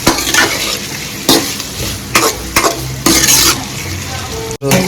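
Onions sizzle in hot oil while a utensil scrapes and stirs through them in several strokes, loud and close, with a steady frying hiss underneath, while cooking egg rice at home.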